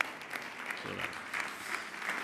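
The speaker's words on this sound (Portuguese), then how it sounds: "eu acho que merece aqui uma salva de palmas" An audience at an honorary award ceremony at the Casa da Arquitetura claps in steady, dense applause, moderately loud and continuous throughout.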